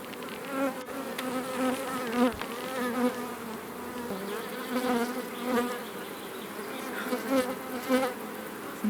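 Honeybees buzz steadily around hives at a mountain apiary, a dense close swarm drone with individual bees flitting past the ear, no speech.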